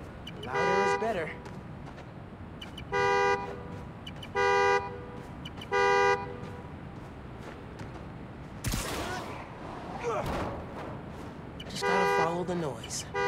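Car horn honks repeatedly in the Spider-Man: Miles Morales video game, short regular blasts rising over city background, followed by a burst of gunfire and a couple more honks near the end.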